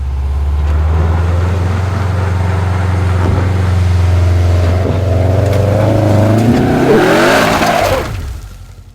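A Subaru Forester XT engine revs hard and loud while climbing a steep, rutted offroad hill, its pitch rising in a strained surge near the end before dropping away.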